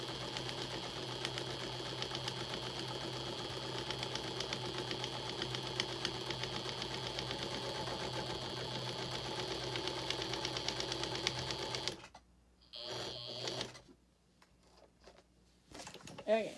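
A sewing machine quilting a scrappy denim quilt-as-you-go tile block runs in a steady, continuous whir for about twelve seconds, then stops, followed by brief bursts of stitching and quiet handling noises.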